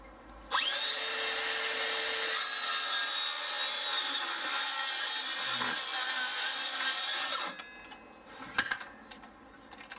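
A Makita DHS680 18V brushless cordless circular saw spins up and rips through wood in one sustained, loud, steady whine lasting about seven seconds, then winds down, followed by a few scattered clunks and knocks.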